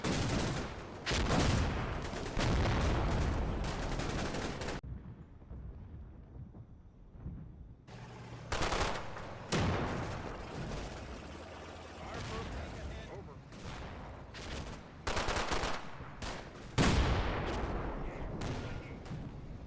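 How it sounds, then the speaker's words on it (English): Gunfire rattles and booms in a Combat Mission wargame battle around a chateau, with anti-tank guns firing at German tanks amid infantry fire; dense loud volleys, a brief lull, then repeated sharp reports, with someone talking over them. "you've got the anti-tank guns firing out as well"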